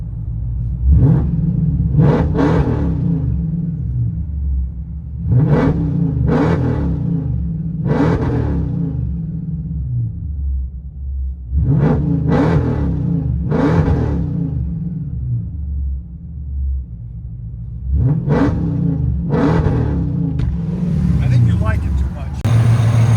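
Heard from inside a Jeep Grand Cherokee SRT, a supercharged 6.4-liter HEMI V8 with straight-pipe exhaust roars through repeated rev bursts in groups, rumbling heavily at idle while voices talk underneath.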